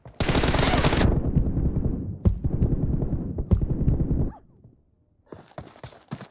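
Rapid automatic gunfire rattles out in a PUBG match, with long dense bursts of loud close shots, a couple of sharp single cracks, then a brief lull before more scattered fire.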